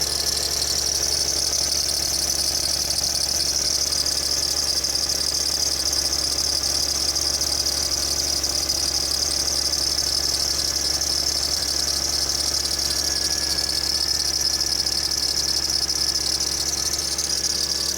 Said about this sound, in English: Pretty bad belt squeal right now.